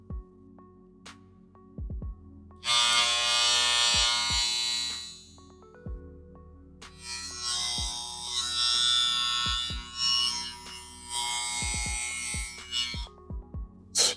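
A Bill Pro BL 600 electric hair clipper switches on and off several times, each run a steady loud high buzz lasting a few seconds, with sharp clicks and handling knocks in between.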